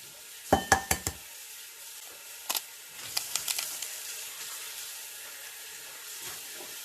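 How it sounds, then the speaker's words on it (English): Whisking milk, eggs and vanilla extract in a bowl: a quick cluster of sharp clinks at the start, a couple of later taps, then softer, lighter stirring that fades out over a quiet background. "I'm going to mix everything together very well."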